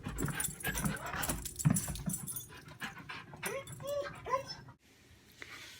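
An excited dog pants close by in quick, rhythmic breaths, with a few whimpers and yips and a light jangle of keys. A person talks in the background.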